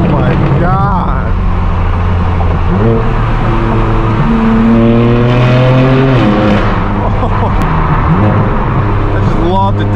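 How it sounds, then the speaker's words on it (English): A straight-piped BMW M4 F82 with a DCT gearbox, its loud exhaust roaring and dropping through stepped downshifts with crackling blips, close and raw, with occasional talk over it. "I just love the downshift with the DCT"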